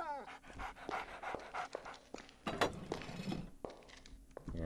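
A puppy in the video game Arx Fatalis pants in quick rhythmic breaths, close and fairly soft, with a few small clinks and thunks around it.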